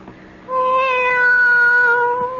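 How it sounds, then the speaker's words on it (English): A cat gives one long, loud, drawn-out meow that rises and then slowly falls. It is clear and close, and it follows a brief quiet moment. "Be quiet, cat."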